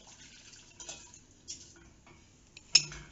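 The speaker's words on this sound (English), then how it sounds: "The milk is boiling and you have to add the custard mix. The trick is you have to keep stirring it or it will form lumps." Custard mix stirred into boiling milk and butter in a pot while making doughnuts: faint, scattered clinks and scrapes of a utensil against the pot, ending in one sharper metallic tap, with no talk.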